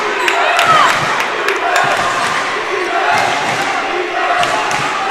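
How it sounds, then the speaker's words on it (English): A high school basketball crowd noisily chants a defense cheer at a Florence/Henry Falcons versus Sisseton Redmen game, a steady, dense roar of voices with occasional sharp thuds and shouts running throughout. "The crowd's making some noise now with the defense chant"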